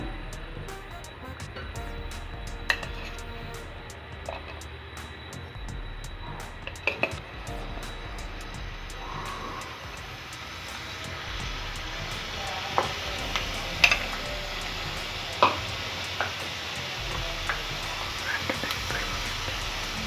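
Potato French fries crackle and sizzle steadily in hot oil during a second homemade frying, a dense continuous hiss with occasional sharper pops and stirring clinks.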